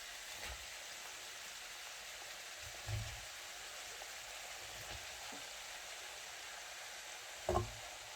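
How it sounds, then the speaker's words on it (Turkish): Mushrooms sautéing in a pan, a soft steady sizzle throughout with a few faint clinks and stirring knocks, quiet and without talk. "gördüğünüz gibi mantarım pişiyor"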